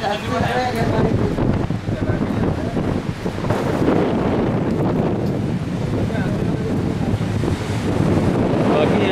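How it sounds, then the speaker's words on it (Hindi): Strong gusts buffet the microphone outdoors near water, a loud, continuous roaring rumble that swamps everything else for the whole stretch. "पर हवा बहुत ज़्यादा तेज़ है"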